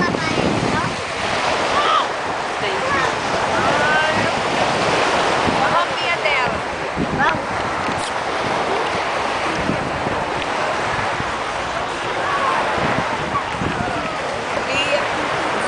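Ocean surf at a Florida beach, with loud continuous waves rushing and breaking close by, mixed with wind noise on the microphone and people chatting.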